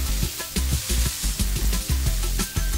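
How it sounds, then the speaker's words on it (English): Red chili powder being stirred quickly through hot oil in a pan, with a loud close sizzle and a series of scraping, knocking stirring strokes in an uneven rhythm. "2 teaspoons of red chili going in on the side. And just stir that through quite quickly."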